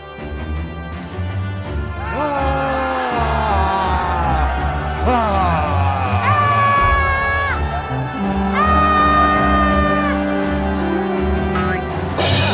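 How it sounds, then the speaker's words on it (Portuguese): A crowd of people shouting and yelling as loudly as they can in a dramatized scene of the fall of Jericho's walls, a sustained mass of raised voices with some wavering cries standing out over a low rumbling bed. "Todos começaram a gritar,"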